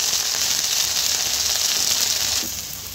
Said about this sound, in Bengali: তো বেগুনটা আমি এখন ভাজতে দিয়ে দিয়েছি।